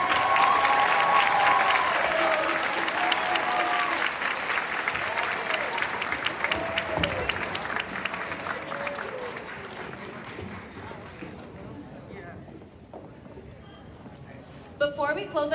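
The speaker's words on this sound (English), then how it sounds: "Let's give one last round of applause for our students." A large audience applauding, dense sustained clapping that gradually thins out, with voices mixed in near the end.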